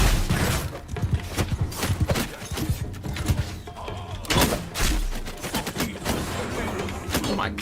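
Gunners firing a volley in Mount and Blade Bannerlord, a rapid burst of crackling gunshots in ragged succession with sharp loud bangs and battle din between them, fairly close and loud.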